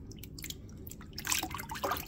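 Cured bacon is rinsed under running water from a tap, a steady close splashing and trickling with louder gushes toward the end, and no voices.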